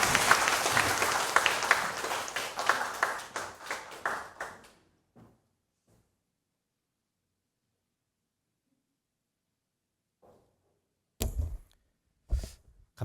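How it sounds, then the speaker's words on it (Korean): A church congregation at a memorial worship service applauds to welcome the preacher, dense clapping that fades out after about five seconds, followed by quiet and a few scattered thumps and footsteps. "삼회교회의 따뜻한 환영의 박수로 모시겠습니다"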